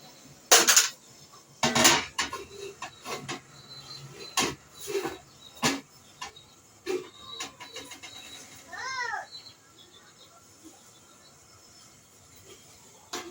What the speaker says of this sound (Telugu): ఇప్పుడైతే గిన్నె పెట్టేసుకుందాం.